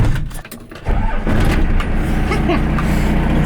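A 12-valve Cummins diesel truck engine starts up and settles into a steady, loud idle, the low rumble sitting close by after a brief cranking burst at the start.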